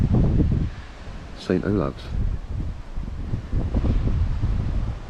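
Strong July storm wind on the Norfolk Broads buffets the microphone in heavy gusts, roaring steadily under a person speaking briefly.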